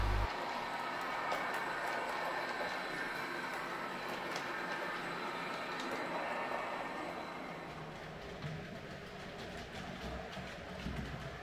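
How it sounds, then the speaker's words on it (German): An H0-scale six-car Westbahn model train fitted with an ESU LokSound decoder runs steadily, its continuous rolling rumble and rail noise staying close and fairly loud throughout with no talking. "Die sechsteilige Westbahn wurde nun endlich von mir mit ESO-Lok-Sound ausgestattet."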